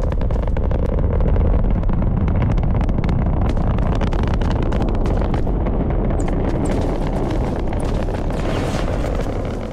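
A rocket launches in Fortnite: Battle Royale, a loud, continuous roaring rumble that holds steady for several seconds like a sustained engine blast, slowly thinning toward the end.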